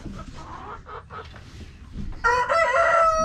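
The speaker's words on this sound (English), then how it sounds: "here's the chickens." Chickens cluck around a farm henhouse, then a rooster crows loudly and close by in a long, clear call over the clucking.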